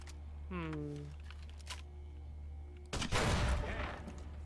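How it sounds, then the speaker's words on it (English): Grenade fire and explosions in the Fallout video game: a sudden loud, noisy blast bursts in near the end and rumbles on, after quieter stretches with a brief tonal sweep earlier. "I'm shooting them with a grenade"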